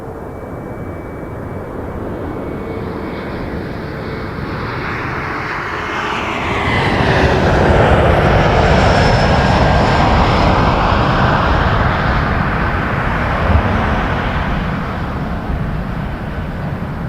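Jazz flight 931, an airliner on landing approach to runway 05 at Toronto Pearson, a loud broadband jet roar that swells around mid-clip and holds steady, with no voices.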